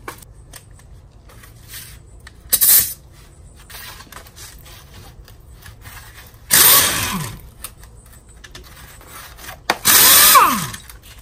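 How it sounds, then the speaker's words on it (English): Brake caliper being removed from a Chevy Express van with an 18mm socket, heard as three loud, short bursts of ratcheting and metallic scraping spaced a few seconds apart, with quieter clicks and handling noise between them. "The first thing we're going to be removing is the caliper itself. It requires an 18mm socket."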